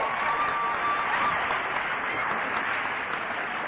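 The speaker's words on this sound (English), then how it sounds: "Trust me, you're clapping for yourselves." Applause from the audience at an AA meeting, a steady hall-wide patter of clapping with no voices, holding level throughout.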